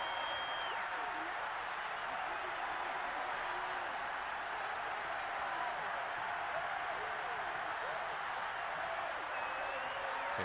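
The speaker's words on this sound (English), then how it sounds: "And this Las Vegas crowd is fired up." Crowd noise at a Las Vegas stadium in the Madden 22 football video game: a steady, dense roar of cheering and applause that fills the whole stretch without letting up.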